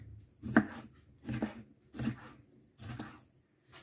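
Knife cutting salad vegetables into cubes on a board, four distinct muted chops at a slow, even pace, close and quiet, with no talk.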